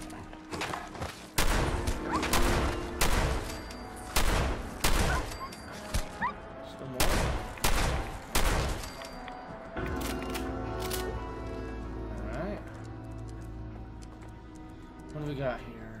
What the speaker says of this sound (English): Let's go ahead and use a shotgun.